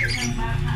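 Breeder birds in a fly cage give a burst of harsh, overlapping squawks and chatter close up, brief and busy, with no voices over them.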